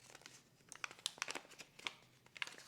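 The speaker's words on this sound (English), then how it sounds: "cheap little paper folder." Cheap little paper folder from a Sony ZV-E10 camera box being handled, with soft crinkling and crisp rustling bursts close by in irregular clusters against a quiet background.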